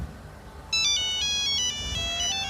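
A mobile phone ringtone starts suddenly and plays a bright, repeating electronic melody, loud and close.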